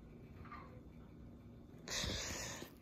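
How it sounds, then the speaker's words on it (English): A cat makes a brief, close sound near the end, loud against a quiet room with faint background hum and no talking. "And there is my weird cat over there."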